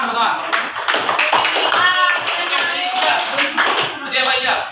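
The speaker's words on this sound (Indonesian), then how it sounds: "Tepuk tangan, tepuk tangan." Students in a classroom clap their hands in short bursts of rhythmic claps while voices talk over them, fairly close and moderately loud.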